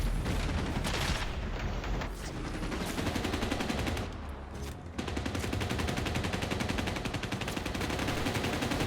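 Rapid, sustained gunfire from a first-person shooter, CrossfireX played on Xbox Series S, with dense automatic bursts running almost continuously near and loud, broken by a brief lull before the firing resumes.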